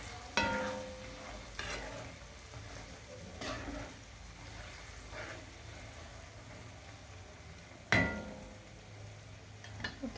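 Spices lightly heated in oil for a spicy mango pickle, a soft, steady sizzle with a few sharp spoon scrapes and clinks against the pan, quiet and close, no talk.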